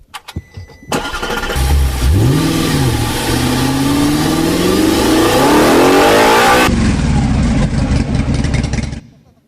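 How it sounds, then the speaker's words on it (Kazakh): A car engine starts near a stage, then revs hard with a rising, sweeping whine that holds loudly for several seconds before cutting back to a rough idle. "биз Оштон машина менен келгенбиз, бирок машина менен сахнанын үстүнө чыгайын деп чечтик"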